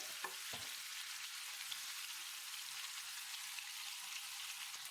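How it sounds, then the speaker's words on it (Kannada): Prawns frying in ghee in a pan for Mangalore-style ghee roast: a steady, even hiss of sizzling fat, close and quiet, with a couple of faint clicks near the start and no talk. "ಒಳ್ಳೆ ತುಪ್ಪದಲ್ಲಿ ಫ್ರೈ ಆಗಬೇಕು, ಒಳ್ಳೆ ಸ್ಮೆಲ್ ಬರಬೇಕು"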